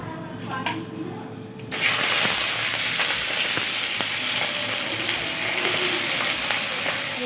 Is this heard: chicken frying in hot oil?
yes